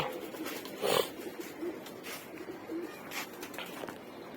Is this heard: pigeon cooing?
yes